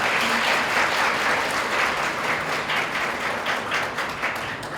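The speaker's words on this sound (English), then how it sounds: "Please clap for Dr. Shweb." A seminar audience applauds a guest speaker, dense steady clapping throughout that fades slightly toward the end, with no talk over it.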